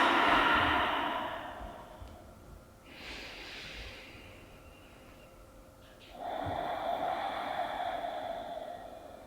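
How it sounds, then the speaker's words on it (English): Slow, deep audible breaths during a guided yoga meditation: a long airy exhale, a pause with a softer intake, then another full breath, close and alone with no talk. "And breathe."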